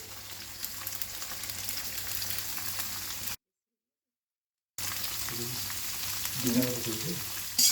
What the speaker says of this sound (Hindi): वेजिटेबल का बस 1 से 2 मिनट के लिए हम फ्राई करेंगे